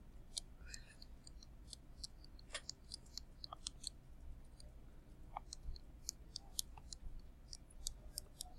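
Calculator keys click as a table is typed in, giving quiet, irregular, close taps in quick bursts over a faint background.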